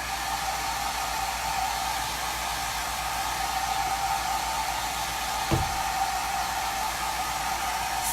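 A hair dryer blows hot air over freshly applied ink on a shirt, a steady close whooshing roar that holds level throughout, with one small knock partway through.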